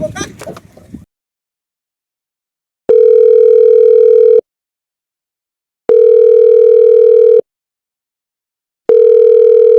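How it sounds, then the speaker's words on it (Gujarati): A telephone ringback tone sounds during a call to a friend: three long, loud, steady buzzing tones separated by silences, following a brief spoken moment at the start. "હું એક મારા દોસ્તાને ફોન કરું"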